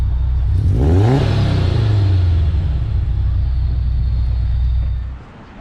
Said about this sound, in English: Rev it once.